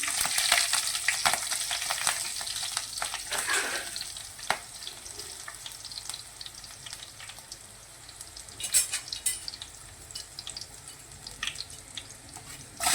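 Green chillies with cumin sizzle and crackle loudly in hot oil in a pan, with a steady frying hiss, scattered sharp pops and a few stirring scrapes throughout, for a Maharashtrian breakfast made from leftover chapatis.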